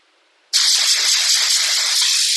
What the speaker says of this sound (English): I'm going to spray a little bit of fluid